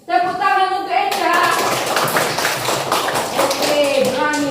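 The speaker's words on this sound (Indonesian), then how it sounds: "Ya tolong tepuk tangan untuk Eca." A class of children clap their hands together for a classmate, a dense, sustained patter of many small hands filling the room, with a teacher's voice and tonal speech at the start and end.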